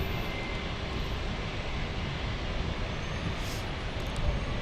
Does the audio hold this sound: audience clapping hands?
no